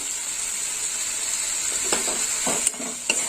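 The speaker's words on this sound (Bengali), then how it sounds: "এবার একটু ভালো করে কষে নেব মশলা" Spice paste of green chili paste and cumin powder fries in a pan for a fish curry, giving a steady, close sizzle with a few scraping stirs of the spoon toward the end.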